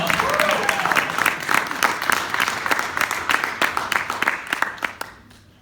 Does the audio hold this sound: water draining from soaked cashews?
no